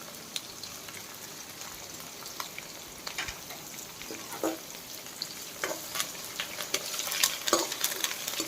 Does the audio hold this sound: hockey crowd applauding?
no